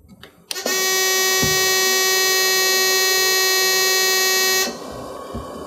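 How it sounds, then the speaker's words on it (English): A NewLife Intensity oxygen concentrator sounds a loud, steady electronic buzzing alarm right after startup, holding for about four seconds before cutting off, leaving quieter machine noise behind. "You'll notice that the unit's going to alarm"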